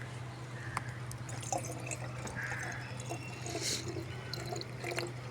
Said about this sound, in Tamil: இப்போ இந்த பாட்டிலில் ஸ்ப்ரேயரில் முக்கால்வாசி தண்ணி எடுத்து வச்சுருக்கோம் அதில் இதை ஊற்றுறோம் பாருங்கள்